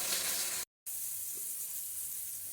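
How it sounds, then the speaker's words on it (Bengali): Ground spices, turmeric and Kashmiri chilli powder, sizzling steadily in hot oil in a pan, a continuous close hiss broken by a brief full dropout, with no voices. "মশলাগুলি আমার ভাজা হয়ে গেছে।"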